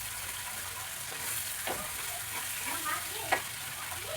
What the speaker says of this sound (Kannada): ಇವಾಗ ಇದು ಚೆನ್ನಾಗಿ ಮಿಕ್ಸ್ ಮಾಡ್ಕೋಬೇಕು.